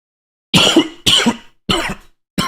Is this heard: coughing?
yes